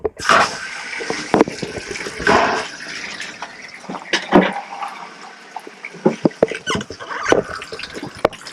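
Water from a thawed, previously frozen pipe splashes and gushes in irregular bursts, close by, with clattering noises and a dog barking at times.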